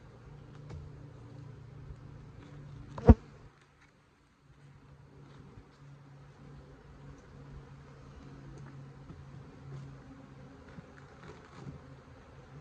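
Honey bees hum steadily at low volume during an early-season hive inspection, with a sharp knock of equipment partway through, then a brief hush before the buzzing resumes.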